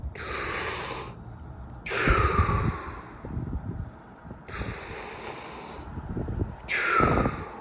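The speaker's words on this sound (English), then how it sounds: "this would be like a full exhale" Full exhales of breath, four strong airy rushes of air spaced a couple of seconds apart, close to the microphone with quieter breathing between them.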